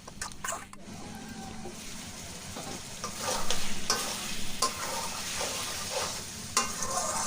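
Chicken pieces are stirred in a sizzling pan, making a continuous frying crackle with scraping strokes and a few sharper clatters of the utensil against the pan.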